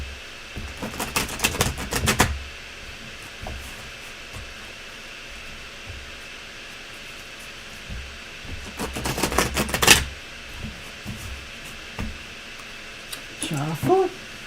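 A Ghosts and Spirits Tarot deck by Lisa Hunt being shuffled: two bursts of crisp, rapid card riffling close to the microphone, separated by a quiet stretch, with a brief voice near the end.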